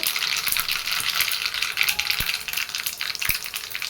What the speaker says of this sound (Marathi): पॅनमध्ये मी तेल गरम करून घेतला आहे बघू शकता तुम्ही हे मोहरी टाकून घेते हे बघा तसं जिरे टाकते